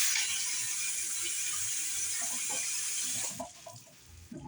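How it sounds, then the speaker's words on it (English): Water runs steadily from a kitchen tap during hand washing, a broad hiss for about three seconds before it shuts off, leaving quieter clatter and handling sounds. "Let me wash my hands."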